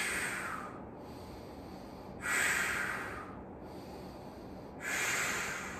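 Deep breaths during a strength training workout come close and clear, with three long hissing breaths rising and falling in a slow, steady rhythm and no talking.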